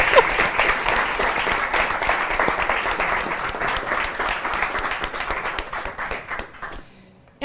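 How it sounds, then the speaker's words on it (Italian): Audience applause at an Italian literary evening, steady dense clapping from a crowd that carries on for about seven seconds before cutting off sharply at the end. "se la merita un altro applauso perché lui era fantastico."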